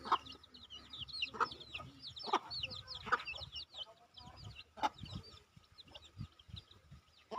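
Backyard chickens and chicks cluck and peep in a busy, continuous chorus, with thin high chick cheeps layered over lower hen clucks and occasional louder calls close by.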